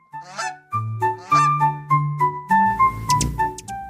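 A goose honks in a quick run of sharp, close calls, heard alongside a light melodic musical backing.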